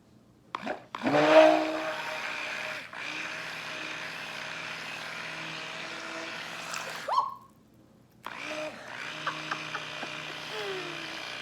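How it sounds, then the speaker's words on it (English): A blender mixing soap starts with a clatter and runs in a steady high whir, cuts out, then starts again and keeps going. "I'm gonna grab my blender. Blend her right up."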